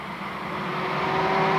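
A bomber-class race car at Lakeport Speedway running into the infield after trouble, its engine a loud, steady drone that swells slightly and rises in pitch as it nears, with no talking.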